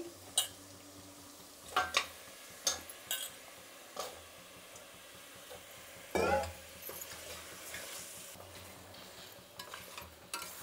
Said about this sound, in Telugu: ముక్కలు కూడా వేసి కొంచెం వేయించుకోవాలండి